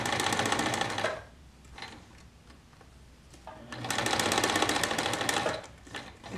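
A sewing machine stitching a quarter-inch seam on a homemade fabric face mask, two steady whirring runs separated by a quiet pause with faint handling, close and loud with no talk.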